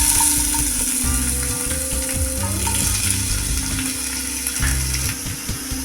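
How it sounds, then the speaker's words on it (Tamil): Chopped onion sizzles and crackles in hot oil with a steady, bright hiss, with a few scraping clinks from the pan throughout. "எண்ணெய் சூடானதும் ஒரு பெரிய வெங்காயத்தை கட் பண்ணி போட்டுக்கணும்."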